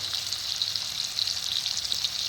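Pieces of chicken frying in hot oil, a continuous close sizzle full of fine spitting crackles and small pops, with no voices over it.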